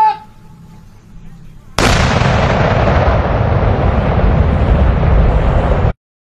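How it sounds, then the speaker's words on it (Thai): A huge landmine demolition explosion bursts after a quiet stretch with faint talk, then a heavy, sustained roar of debris and rumble lasts several seconds before cutting off. "การทำลายทุ่นระเบิดสั่งการ"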